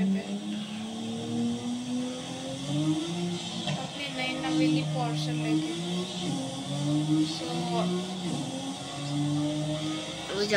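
A Porsche 911 Carrera S in Forza Horizon 5 drives a highway drag run with its stock setup, the engine note rising and shifting through gears in a steady drone. Light tire noise sits underneath, and there is no speech.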